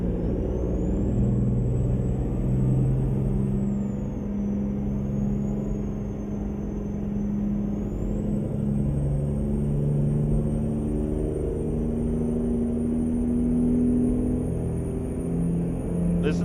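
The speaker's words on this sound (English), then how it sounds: "Listen to that open exhaust." A car with an open exhaust drives past in American Truck Simulator on a Colorado road, a steady, deep engine rumble that holds fairly loud throughout.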